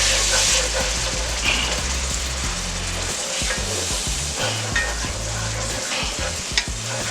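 Chicken stock is poured into a hot roux in a pan while cooking smothered turkey wings. A loud sizzle and bubbling frying hiss rise under steady scraping strokes of stirring, with a few sharp clinks of utensil on pan.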